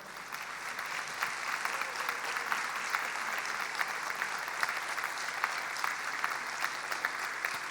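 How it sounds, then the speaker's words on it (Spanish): Congregation applauding during a church service, a steady dense wash of clapping from many hands that carries on evenly with scattered sharper claps throughout. "Demos un aplauso al Señor y demos una sonrisa al Señor."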